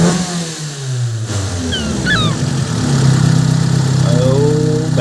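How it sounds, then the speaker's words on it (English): A Mazda 323 engine with twin Weber carburettors idles with a steady low rumble, its pitch lifting slightly partway through, while a few faint chirps sound in the background. "I can give you a bit of a taste of what it sounds like"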